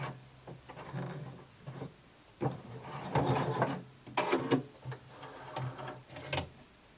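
A home sewing machine stitches fabric in short irregular runs of rapid ticking, stopping and restarting as it backstitches, close and fairly quiet with no voices.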